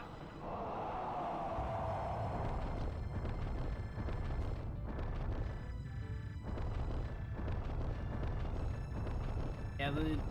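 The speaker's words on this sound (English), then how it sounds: "the sanctuary is currently exploding" A sanctuary explodes in the video game Alundra, with a sustained rumbling roar and repeated booming bursts, with game music or effects layered over it for about ten seconds.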